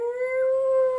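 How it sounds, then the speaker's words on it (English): A dog howls in one long, steady, close tone with rich harmonics, slightly rising and sustained for the full second with no talk. "He makes Sandy howl with his barking."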